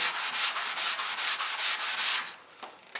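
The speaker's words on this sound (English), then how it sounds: "we went from charred black to sanding it back off" Rhythmic back-and-forth sanding of charred black wood, a steady scratchy rasp repeating about every quarter second, then a few soft knocks as it stops.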